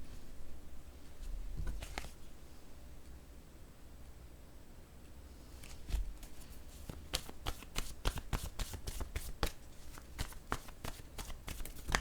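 Tarot cards being shuffled and cut, a soft riffling rustle at first, then a long run of quick crisp card flicks close by, with no talking.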